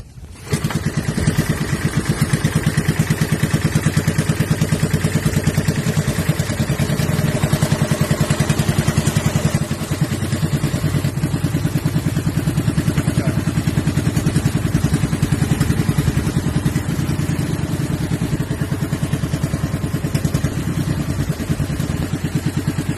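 A steady, loud boat engine chugs throughout on a river crossing near Baler, Philippines, a mid-pitched motor running continuously with a rattling, clattering texture and no voices.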